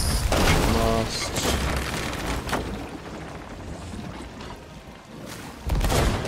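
Heavy booming impacts in the Sea of Thieves pirate game as a cannonball strikes a ship, with a loud thud at the start and again near the end over rumbling water and battle noise, with voices talking in between.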